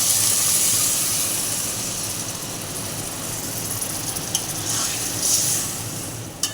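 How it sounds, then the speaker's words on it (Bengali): Water is poured into a hot pan of sautéed rice. It sets off a loud, continuous hiss and sizzle that slowly eases, with a few small pops near the end. "এবার আমি জলটা দিয়ে দিচ্ছি"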